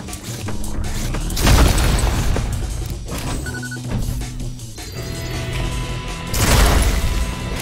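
Spread-shot shotgun blasts in the video game ULTRAKILL, two heavy booming shots a few seconds apart with mechanical clatter and a rumbling tail between them, loud and alone with no talk.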